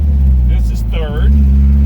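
Loud, steady engine drone from a Datsun 1200 pickup running in third gear, with someone talking briefly over it partway through.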